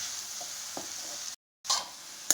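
Drumstick leaves sauté in a pan with a steady, close frying hiss and a few soft stirring scrapes. A brief dead-silent gap falls in the middle, then the sizzle returns with louder stirring clatter.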